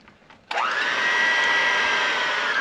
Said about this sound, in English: So it's all mixing really good with all the cheeses and the spices and everything's all mixed together